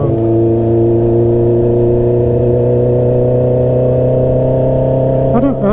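A Honda CB650R motorcycle engine with a loud, steady droning hum heard from the rider's position, holding an even pitch throughout and rising slightly near the end.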